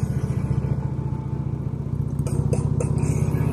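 A motorcycle engine drones steadily during a ride to work, close and loud with an even pulsing throb. Faint knocks or rattles sit briefly over it.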